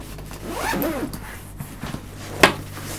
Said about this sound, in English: You got little zippers on the side right there.